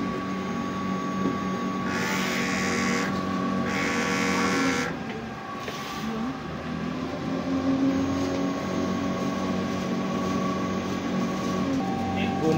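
A large format printer runs a nozzle check with a continuous mechanical drone and whine. Two bursts of brighter hissing, like carriage sweeps, come early, followed by steady running with faint clicks.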